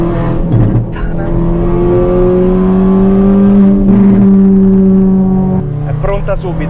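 A Ford Fiesta ST200 with a 1.6-litre engine accelerating hard, its rising engine note holding loud and close with a brief gear change, under excited talk from the occupants inside the car.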